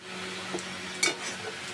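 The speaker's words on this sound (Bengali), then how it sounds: "দিয়ে দিলাম পেঁয়াজ কুচি পেঁয়াজটা আমি একটু নরম নরম করে ভেজে নেব" Chopped onion frying in a pan, heard as a steady soft sizzle with a few faint scrapes of stirring, close and continuous with no talking.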